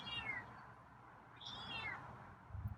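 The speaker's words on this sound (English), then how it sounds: "Your meows aren't very loud tonight." A feral cat gives soft meows, two faint, drawn-out calls rising and falling over a quiet room background with low rumbling noise.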